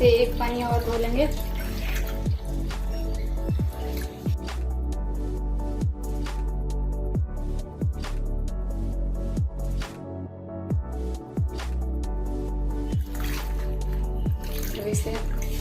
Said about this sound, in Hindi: इसे एक पानी और धो लेंगे।